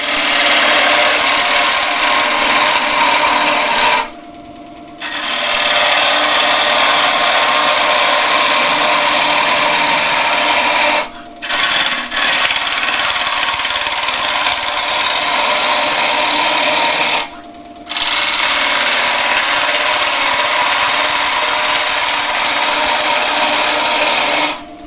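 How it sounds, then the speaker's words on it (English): A wood lathe turning a solid timber bowl with a kintsugi join, a loud continuous broadband cutting hiss in three long passes separated by brief pauses where the tool lifts off. "we're now just like normal bowl turning"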